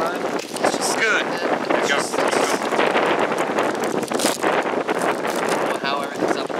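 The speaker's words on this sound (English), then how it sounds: "that's the first big gust we've had" A big outdoor wind gust roars across the microphone, blowing things around, while people talk and exclaim over the noise.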